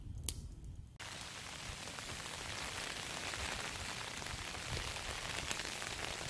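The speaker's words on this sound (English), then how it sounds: "The rain has really kicked in now." Heavy rain drums steadily on a taut tarp overhead at a winter wild camp, a dense close patter that starts abruptly and continues without pause.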